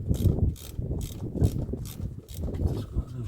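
Ratchet wrench loosening bolts low on a BMW E28 engine, quick bursts of rapid clicking repeated in a rough rhythm, close and fairly loud.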